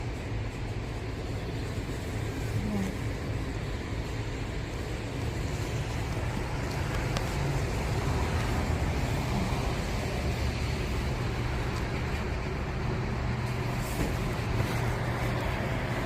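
Continuous low rumble of vehicles and traffic outside a Holden car dealership on a rainy day, a steady drone with no distinct passes and no voices.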